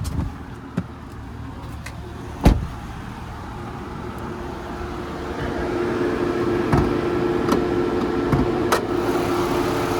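A 2018 Mitsubishi Eclipse Cross Exceed idling with its bonnet open, giving a steady engine hum and whir heard close up, with a few faint clicks and a low rumble that swells slightly toward the end.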